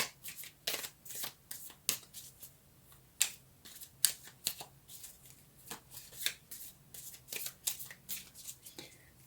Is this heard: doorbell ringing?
no